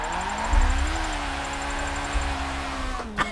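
A drift car engine revs in the Forza 7 racing game, played on a Logitech G920 wheel. The buzzy, high-pitched engine note holds steady and shifts in pitch, with a brief clunk near the end.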